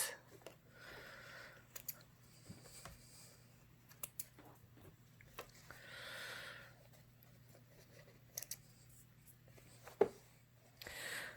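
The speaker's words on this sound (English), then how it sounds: "again with the snips" Snips cut through fabric during a sewing project, giving a series of quiet, crisp snipping clicks scattered over faint background hum, with no talking.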